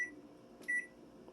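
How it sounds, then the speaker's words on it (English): A kitchen oven timer beeps during cookie baking, two short electronic tones a moment apart, faint against a quiet room with no talk. "The timer's beeping here, so let's turn that off."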